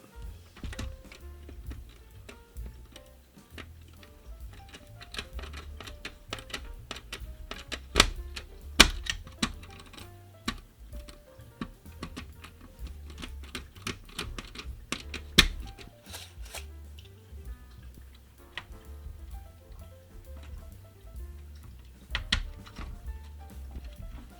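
Screws driven into the back of a PlayStation 1 console near the power port, a long run of dense small ticking clicks and ratcheting taps, close and steady, over a low background hum.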